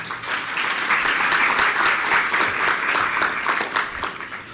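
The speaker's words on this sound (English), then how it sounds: "Let's give them a well-deserved round of applause." An audience at an international climate-resilience conference applauds postgraduate students, a steady, dense round of clapping that holds for several seconds with no talk over it.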